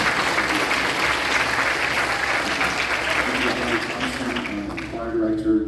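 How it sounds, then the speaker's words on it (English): Applause fills a middle school recognition concert hall for the intermediate school music teachers, a dense steady clapping from the audience that begins to fade near the end as voices and a tonal sound come through. "Big round of applause for them"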